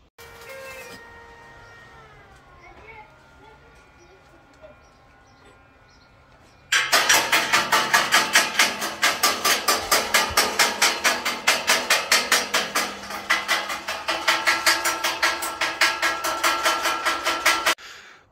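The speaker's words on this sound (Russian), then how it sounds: "сейчас я тут все нарежу, обрежу и начнем уже варить" Metal is cut and welded for an aquarium stand. A quiet, faintly tonal stretch gives way to a loud, harsh, rapidly pulsing metallic roar that runs steadily for about ten seconds close by, then cuts off abruptly.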